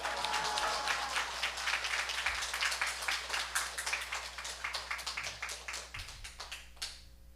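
A church congregation claps to welcome a missionary during Sunday worship, a fairly close burst of rhythmic applause that slowly thins out and stops near the end, over a low steady hum.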